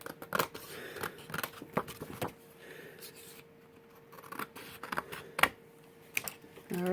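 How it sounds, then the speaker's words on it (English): Scissors snip off excess cardstock from a handmade card, giving a series of close, crisp cutting clicks in irregular bursts with brief pauses, while a faint steady hum sits underneath. "So you're just going to hear some little cutting noise for a moment."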